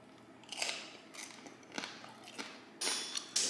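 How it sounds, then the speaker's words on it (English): Crispy skin of a smoked hog head being cut, giving several short, sharp crunching cracks at close range, spaced irregularly with a louder burst near the end, and no talking. "Hear that crunch?"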